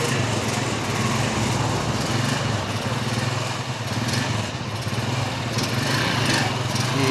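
A motorcycle engine with a newly replaced clutch lining revs loudly and steadily up close, holding a continuous buzzing drone with slight swells and no one speaking.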